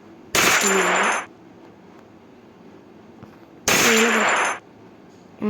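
Close-range gunfire in the video game Free Fire, aimed at the head: two loud bursts of rapid shots about three seconds apart, each lasting under a second, with near silence between them.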